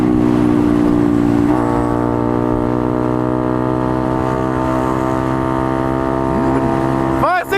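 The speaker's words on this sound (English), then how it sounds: "This has I believe a full system Toast exhaust." Honda Grom minibike fitted with a full-system Toast aftermarket exhaust instead of stock, droning steadily and loud throughout with a revving rise near the end.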